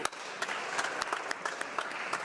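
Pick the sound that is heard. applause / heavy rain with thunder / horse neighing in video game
applause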